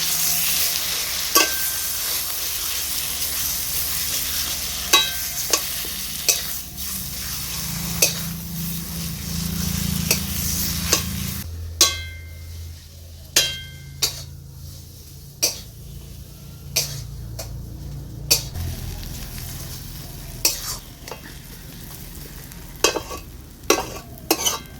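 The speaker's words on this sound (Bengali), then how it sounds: "বরবটিটাকে আর কিছুক্ষণ ভালো করে ভেজে নেব।" A yardlong bean paste fries with cumin in a pan, a steady sizzle under repeated sharp scrapes and clacks of stirring, with a lower frying rumble that drops away partway through.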